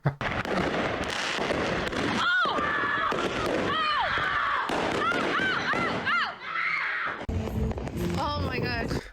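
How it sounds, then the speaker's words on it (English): A box barrage of fireworks fires off a rapid series of whistling rockets and booming bursts, loud and continuous, with people talking over it. "one of those big box fireworks, isn't it? Like the barrage ones with like multiple fireworks in."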